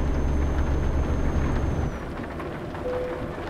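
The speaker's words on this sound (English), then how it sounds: "Really rainy." Rain in Euro Truck Simulator 2 washes over a truck cab as a broad hiss, loud and rumbling at first and then settling into a softer, steadier patter, with a faint tonal whine above.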